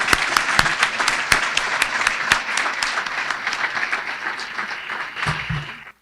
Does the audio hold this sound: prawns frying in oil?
no